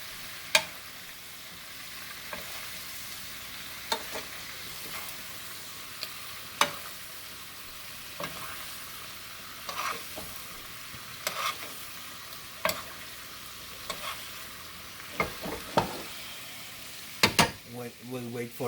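Lamb loin chops fry in a pan with a low, steady sizzle, while scattered sharp clicks and scrapes from a utensil stirring or touching the pan punctuate it, growing busier toward the end.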